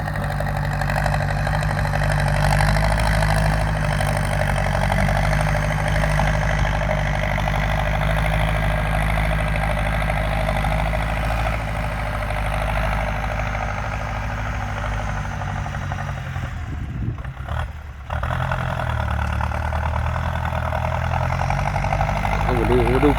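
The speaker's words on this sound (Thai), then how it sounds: "ดี๋ยวรถไถมาเก็บตามให้เรียบร้อยเลยนะ" A Ford 6610 tractor's diesel engine idles steadily close by, a constant low throb with a brief dip near the end, heard on its own.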